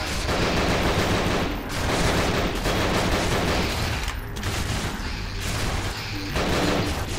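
Sustained automatic gunfire from a SWAT soldier's weapons in the video game Nightmare House 2, loud dense bursts of rapid shots running almost continuously with a few brief lulls, no talking over it.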